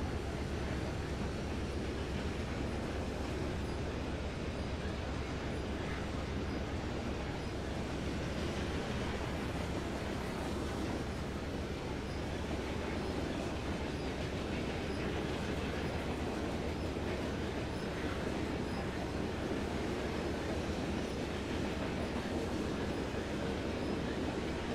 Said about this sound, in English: They make the train sound so realistic, it's unreal.